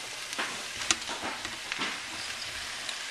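Beef sizzling as it goes back into a hot Dutch oven for beef stew, a steady close crackle with scattered pops and spits throughout, with no talking.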